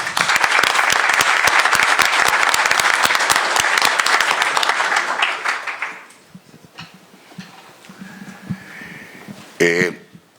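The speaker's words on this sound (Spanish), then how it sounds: "a quien por favor les pido un caluroso aplauso" Audience at a legal lecture applauds a speaker warmly, a loud, dense patter of clapping for about five seconds that fades out, followed by a few scattered sounds and brief talk.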